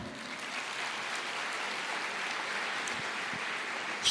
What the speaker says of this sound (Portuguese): Lembre-se, pode aplaudir.